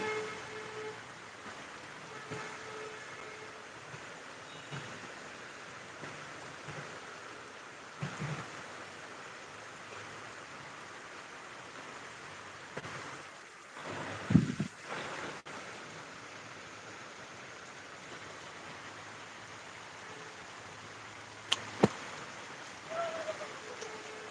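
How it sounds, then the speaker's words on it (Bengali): Steady, dense hiss of heavy rain pouring down on streets in Hemayetpur, without a break, with a few brief knocks and splashes rising above it now and then. "এখন অনেক পরিমাণ বৃষ্টি হচ্ছে"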